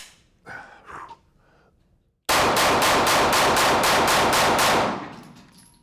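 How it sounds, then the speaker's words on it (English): Rapid gunfire from a compensated Glock 19 pistol, about a dozen loud, sharp shots in quick succession over nearly three seconds, preceded by quiet breathing and handling noises. "Let's load this magazine and we'll shoot the compensated Glock 19."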